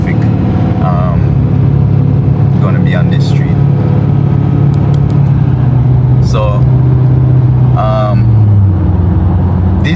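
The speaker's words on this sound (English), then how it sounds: "Right now there is a lot of traffic here already" Street traffic passing on a road near a gas station, vehicles rolling by with a steady engine drone and rising pass-bys, someone talking over it close to the microphone.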